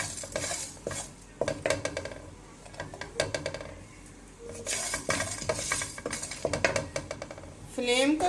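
Whole spices dry-roasting in a pan over a low flame for spicy beef pulao, with a spoon repeatedly scraping and clattering against the metal and a light sizzle, close and fairly loud, in uneven bursts of stirring.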